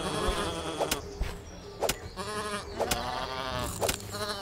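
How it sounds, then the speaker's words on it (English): Sheep-like bleating calls from a boss creature in the video game Starbound, several wavering bleats spaced a second or so apart over steady game music and buzzing effects. "Why is he making sheep sounds?"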